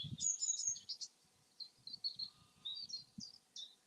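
A swallow twitters outdoors beside Hadrian's Wall in a string of quick, high chirps and tweets, some near and some farther off, with soft rustling and footsteps below.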